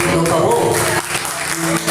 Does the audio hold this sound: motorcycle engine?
no